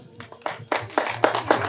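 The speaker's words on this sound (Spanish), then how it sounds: "Fuertes esos aplausos." Applause at a welcoming reception in Angahuana Alto: several rounds of hand clapping, loose and uneven, swelling into a few louder bursts from a small crowd nearby.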